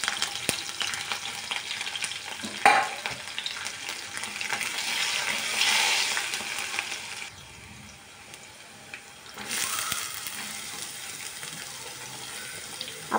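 Green chilies and garlic hiss and crackle in hot oil in a pan for bharit, a moderate steady sizzle with a brief louder clatter early on, dropping to a quieter simmer before the frying noise rises again.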